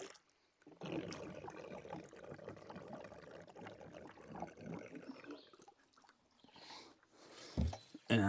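Water is poured into a collapsible basin for washing dishes at a dispersed campsite on Knowles Creek in Wisconsin: a close, steady splashing pour of about four seconds, then quieter trickles, a pause and a couple of sharp knocks.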